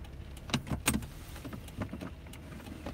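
A car is eased into a street parking space with a low engine rumble under scattered thumps and clunks, heard close up and with no talking.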